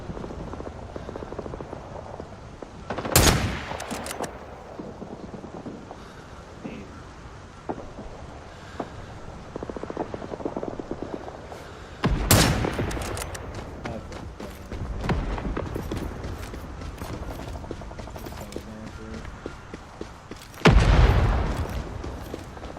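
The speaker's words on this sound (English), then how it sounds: "Barrage inbound. Take cover." Three heavy artillery blasts boom out in a Vietnam War video game, spaced several seconds apart, each a loud broadband burst fading into a rumbling tail, with faint scattered gunfire crackling and continuous battlefield noise between them.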